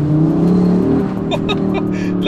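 A 2022 Audi RS3 accelerates out of a slightly wet corner. The engine note rises steadily and sounds close, heard from inside the car, with brief tire or road noise and a faint voice in the background.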